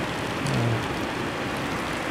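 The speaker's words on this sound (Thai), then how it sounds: "โอ้มีฝน ฝนกระหน่ำเลยครับเนี่ย ไปไหนไม่ได้ครับ" Heavy rain pours down steadily outside a 7-Eleven store in Thailand, a dense, even hiss filling the whole stretch with no break and no voices.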